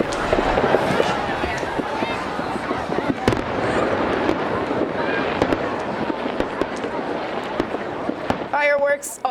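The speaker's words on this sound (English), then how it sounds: "Fireworks also taking place in Wauwatosa tonight at Hart Park." Fourth of July fireworks at Hart Park in Wauwatosa burst in a dense run of sharp cracks and booms over a crowd murmur, with a string of crackling pops near the end.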